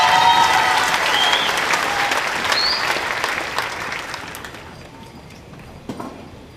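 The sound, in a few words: applause at a graduation ceremony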